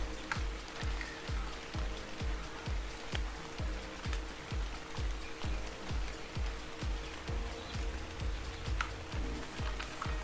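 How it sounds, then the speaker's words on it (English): Rain falls in the survival video game ARK, a steady wash of drops with a regular pulsing beat running under it the whole time, with no voices over it. "At least the rain is cooling me down now."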